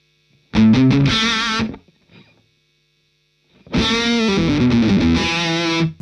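Electric guitar played through a Hughes & Kettner amp on channel 1B, giving a boxy, distorted tone; a short burst of notes, a pause, then a longer sustained strummed passage, loud and alone.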